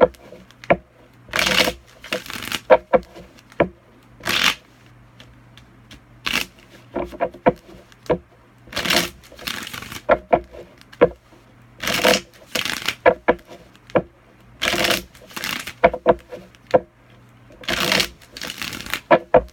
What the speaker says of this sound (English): Alright, this is my last shuffle